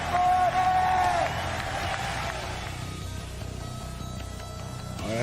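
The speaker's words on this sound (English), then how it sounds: "Make some noise for your Evo 2023 Tekken 7 champion for the 4th time. Arslan Ash." A crowd at Evo 2023 cheers and applauds for the Tekken 7 champion, a loud roar of clapping and shouting with a high whistle near the start, then gradually easing off.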